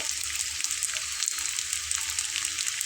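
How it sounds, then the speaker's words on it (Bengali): Vegetable rolls sizzle in oil over medium heat, a steady close hiss of frying with faint crackles and no talking. "চুলার আঁচটাকে একটু মিডিয়াম করে দিয়ে ভেজে নেব"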